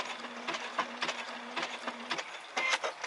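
A Brother SE630 sewing and embroidery machine trims its thread with a short run of mechanical clicks and whirring bursts, close and fairly quiet, with a steady faint hum beneath and a louder burst of activity at the end.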